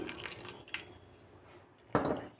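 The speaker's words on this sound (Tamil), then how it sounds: "நல்லா கொதிக்கிற தண்ணியை ஊற்றிடணும்" Boiling water pours and splashes into a bowl of dried anchovies, with a steady liquid rush and a sharper splash near the end.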